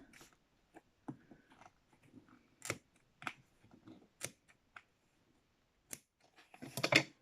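Quiet, scattered crinkles, snaps and tearing sounds of a taped package being pried open, with short pauses between bursts.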